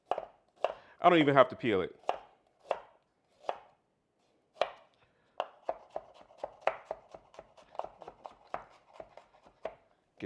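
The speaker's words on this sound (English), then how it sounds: "Get that chopped up real good." Fresh ginger is chopped with a knife on a board: quick, close, crisp knocks in uneven bursts, at one point a fast flurry, while someone briefly speaks between cuts.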